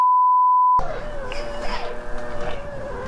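A pure electronic censor beep covers profanity during F1 2013 racing gameplay, one steady tone lasting under a second, then cuts to game engine and crowd noise.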